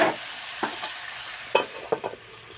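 A spoon stirring chuno fish chorchori with ash gourd, yardlong beans, potato and green banana in a small kadai, several brief scraping clicks over a faint sizzle, close and without talk.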